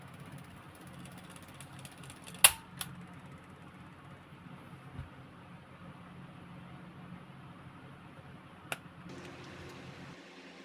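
The tape rewind mechanism of a 1978-or-later Enviro Stereo AIE-2006 cassette player runs with a low continuous mechanical whir, punctuated by a few sharp clicks and a change in motor tone near the end; no one speaks.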